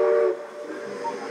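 A Disneyland Railroad train running, with a brief loud whistle-like tone at the start that gives way to a steady rumbling hiss of the moving train.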